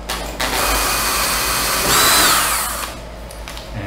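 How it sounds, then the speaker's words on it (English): Power drill boring a 3mm hole in the base of a 3D printer built from recycled electronic waste. A close, loud whine runs for several seconds, its pitch shifting as the bit cuts, then it spins down and stops. "So we'll drill that out to 3mm."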